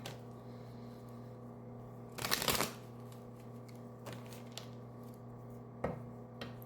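A tarot deck is riffled and split in one quick burst, followed by a few soft card taps and slides against a quiet background.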